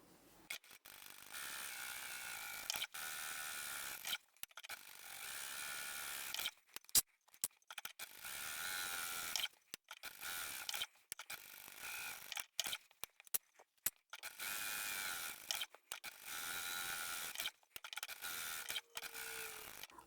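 A sewing machine with a size 90/14 needle stitches in repeated bursts, its mechanical whirring starting and stopping with short pauses between runs.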